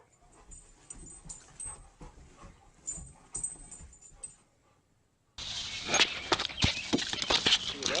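A dog pants hard and out of breath in short, rapid rhythmic bursts, close by. The sound shifts midway into a louder, rougher stretch of breathing.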